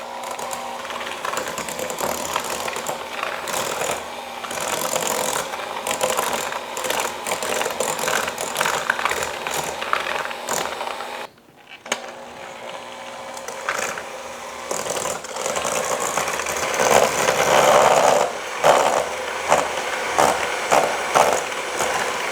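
A Hamilton Beach 5-speed hand mixer churns cookie dough with a steady, close whirring motor and rattling beaters, breaking off briefly midway before resuming and straining louder.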